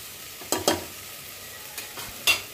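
Cut palmyra sprout tuber being sautéed in a pan, heard as a few sharp scraping stirs against a faint background sizzle, with quiet gaps between strokes.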